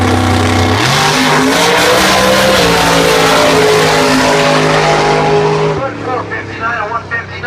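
A 1965 Corvette drag car on nitrous oxide roars loudly at the strip, its engine note stepping up through several rising pitches before fading, with an announcer talking over it.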